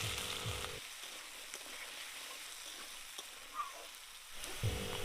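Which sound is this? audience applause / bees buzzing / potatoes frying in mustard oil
potatoes frying in mustard oil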